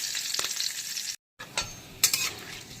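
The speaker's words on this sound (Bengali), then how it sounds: "এখন এই তেলেই দিয়ে দিচ্ছি প্রথমে গোটা গরম মশলা আর তেজপাতা ফোড়ন" Whole garam masala and bay leaves fry in hot oil for a mutton curry, giving a steady bright sizzle with a few sharp clinks of a utensil against the pan and a brief silent gap partway through.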